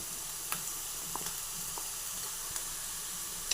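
Onions, green chillies and carrots sizzle and fry in hot oil for vegetable fried rice, a faint, steady crackle with occasional soft stirring ticks and no voices.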